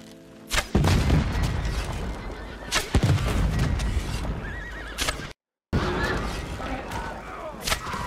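A horse in the Red Dead Redemption video game whinnies loudly several times, mixed with hoof clip-clops and heavy booms from gunfire, while a player briefly talks.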